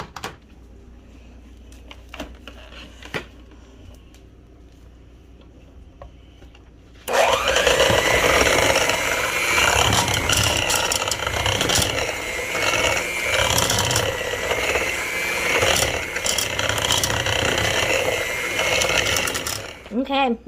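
Mashed beans for homemade refried beans are mixed and beaten hard for about thirteen seconds, a loud, dense, continuous churning that starts abruptly after a quieter stretch with soft knocks and ends just as suddenly.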